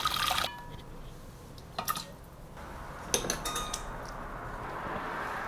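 A few scattered clinks and scrapes of a utensil against cookware as slow-cooked food in about a liter of water is transferred into an ordinary cooking pot, with quiet pauses in between.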